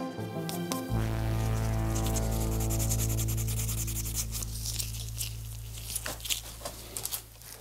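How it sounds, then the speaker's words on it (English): Sanding a 3D-printed action figure by hand, a steady close rubbing and scraping that runs continuously under a low hum, with a few sharper scratchy strokes toward the end. "So I'm going to get this finished, get this guy sanded"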